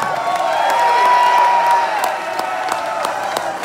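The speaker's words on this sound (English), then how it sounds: "give yourselves a round of applause and let me fucking hear you for the city of Atlanta" A crowd at a Fit For An Autopsy metal show at The Masquerade in Atlanta claps and cheers in a dense, steady roar, with sharp individual claps and shouts punching through for the full stretch.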